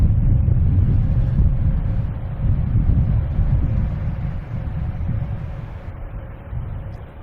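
Strong wind buffets the microphone at Boston Logan Airport, a loud, continuous low rumble that swells and eases over several seconds with no voices.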